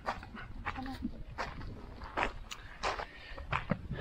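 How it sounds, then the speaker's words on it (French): A hungry stray dog trails visitors at the Santa Ana volcano crater in El Salvador, heard up close with brief sniffs, small whimpers and snuffling bursts among light footsteps on the ground. "C'est le chien du volcan."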